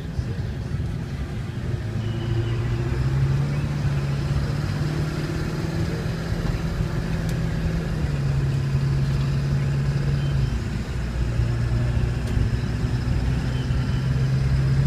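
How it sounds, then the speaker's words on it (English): A 2002 Ford F550 XLT crew cab 4x4 dually with automatic transmission drones steadily from inside the cab on a test ride, a constant mid-pitched engine hum with slowly rising and falling tones and no talk. "Take you on a quick test ride."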